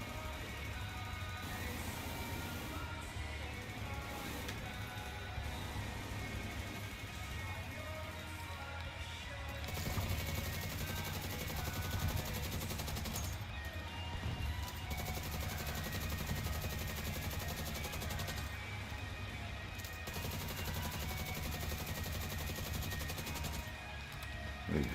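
Dense automatic gunfire in the video game Division 2, continuous rattling bursts layered with engine-like rumble and game effects, sustained at steady loudness throughout.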